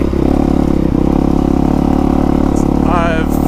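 A 2020 Honda CRF450R dirt bike engine runs close and loud at a steady, throbbing idle with a rich buzzing drone and brief higher whine near the end.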